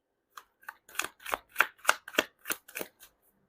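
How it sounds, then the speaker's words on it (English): Tarot cards being shuffled by hand, a quick run of about ten crisp riffling bursts in a steady rhythm, close and fairly loud, with no talking. "You saw me shuffle."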